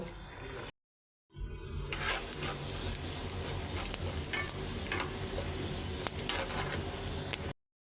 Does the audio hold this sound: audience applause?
no